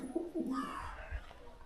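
Caged flying pigeons, male and female, give a short, soft cooing call from close by, with a low murmuring tone and faint background noise.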